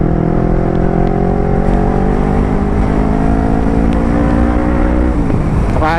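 A motorcycle engine held at steady high throttle, loud and close, its tone sliding down near the end as the revs drop.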